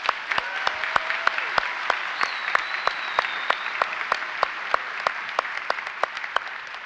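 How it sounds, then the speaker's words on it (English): Audience applause at the Grady College spring graduation convocation, a broad, steady roar of clapping from a large crowd with sharp, regular nearby claps standing out throughout. "That deserves a round of applause."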